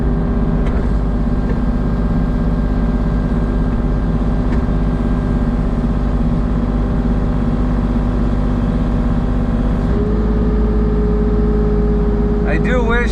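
Kubota mini excavator moving a garage around a corner, a steady, loud diesel engine drone with a constant low hum holding for the whole stretch and a faint rise in pitch near the end.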